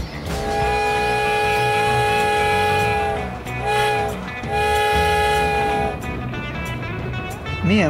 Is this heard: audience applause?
no